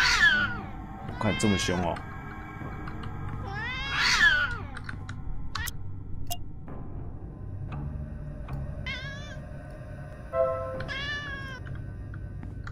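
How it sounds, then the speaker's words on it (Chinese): A cat meows several times in the horror game Yuppie Psycho, bright rising and falling calls spread across the clip, with a person talking over them and faint game ambience beneath. "果然是猫，可爱的喵喵"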